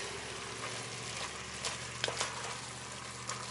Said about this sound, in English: I have 1 tablespoon of cumin. Just going to stir that around.